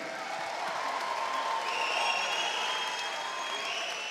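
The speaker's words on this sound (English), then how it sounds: "can we please have a round of applause for these two fighters?" A fight-night crowd applauds two 68 kg fighters in the ring, a dense continuous roar of clapping and crowd noise with faint tonal sounds drifting above it.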